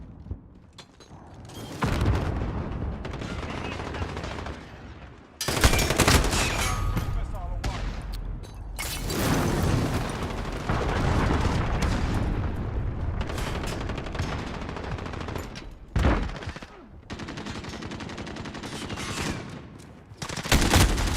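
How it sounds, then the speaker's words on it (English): Assault rifle fired at long range without a scope in a video game: sustained bursts of loud, dense gunfire, mostly continuous with brief gaps, with a voice talking over it at times. "Long range with a fucking assault rifle with no scope"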